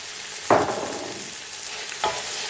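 Rice with tomato is stirred in a frying pan over a soft sizzle, with two distinct scraping strokes about a second and a half apart. The sound is close and moderately loud.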